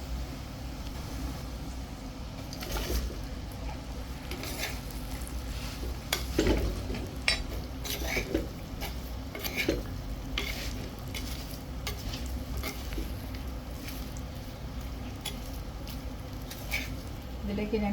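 Fried tuna pieces are stirred into a reddened spice masala in a pan for a Kerala fish pickle. Soft, steady sizzling comes with scraping spoon strokes and occasional clacks against the pan. The sound is fairly quiet and continuous.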